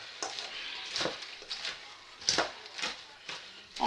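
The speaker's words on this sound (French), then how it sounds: "Donc là, on va déjà mélanger les salades." Salad leaves tossed and mixed in a bowl, giving a series of soft, rustling crinkles and light scrapes in an irregular rhythm, fairly quiet and close, with no voice over them.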